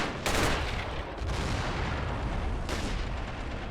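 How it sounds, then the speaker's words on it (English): Artillery fire booms in an army men war game, with heavy blasts and a dense rumbling barrage of shots, loud and continuous across a few seconds. "It shows how effective artillery is in this game."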